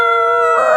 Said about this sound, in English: you hear out there the cries of puppies